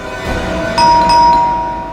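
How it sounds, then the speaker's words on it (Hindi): A doorbell gives a bright, sustained electronic chime, clear and close, over a low room hum in a home. "आज तो लगता है घंटी खराब करके छोड़ेंगे।"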